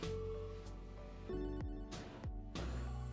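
A phone rings close by with a repeating electronic ringtone, loud tonal bursts pulsing in a steady rhythm with no talking.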